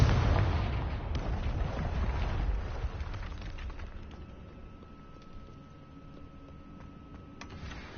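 A Confringo spell explosion in Hogwarts Legacy: a loud, low booming blast right at the start that rumbles and slowly fades into quieter debris and ambience.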